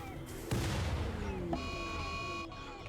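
Gunfire and explosive booms in RimWorld, a sharp burst near the half-second mark followed by a dense, sustained wash of shots and blasts with ringing tonal lines, no voices.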